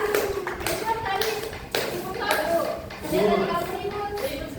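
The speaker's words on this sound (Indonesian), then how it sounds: "Tepuk tangan dulu untuk Hendra" Students in a microteaching classroom clap, a loud burst of mixed claps and taps with children's voices talking over and between them.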